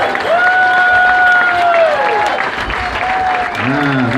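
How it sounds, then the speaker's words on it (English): Audience applause at a traditional Native American clothing contest at the Santa Fe Indian Market: a steady wash of clapping fills the clip while a voice carries over it and another voice comes in near the end. "A round of applause, please."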